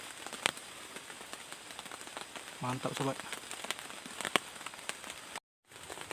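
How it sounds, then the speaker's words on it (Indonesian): Heavy rain drums steadily on a tarp shelter in a Sumatran forest during a solo camp in strong wind, a dense constant patter with a few sharper drops, while someone speaks briefly over it. "Hujan lebat sobat."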